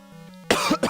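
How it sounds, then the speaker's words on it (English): A single burst of coughing from a person getting over a cold, close and loud, after a brief quiet moment with a faint low hum. "I apologize for the coughing in your ears"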